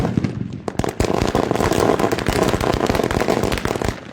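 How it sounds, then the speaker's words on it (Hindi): Rapid strings of loud firecracker bangs at a local cricket match's Super Over crackle continuously, dense and overlapping, close by and without pause. "पटाखों की गड़गड़ाहट के बीच"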